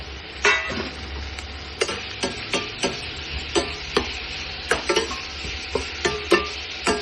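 Chopped capsicum for gravy sizzles in a hot pan while a spoon scrapes and stirs it, giving a steady frying hiss broken by a dozen or so sharp, irregular clacks of utensil against metal.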